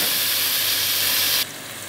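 Shrimp land in hot olive oil in a cooking pot and set off a loud, steady, bright sizzle, which drops abruptly to a quieter hiss partway through, with no voices.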